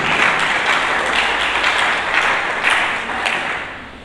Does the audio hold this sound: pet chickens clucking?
no